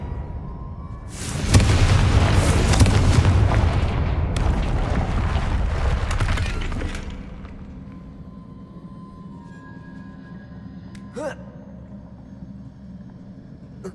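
A Confringo fire spell detonates in the video game Hogwarts Legacy, a loud roaring blast that swells and rumbles for several seconds and then drops away to a low ambient hum, with a single faint click near the end.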